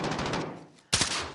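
Gunfire in a competitive esports shooter match on the Lotus map, a sustained burst of close shots filling the first half, dropping off, then a second loud, dense volley bursting in and continuing to the end.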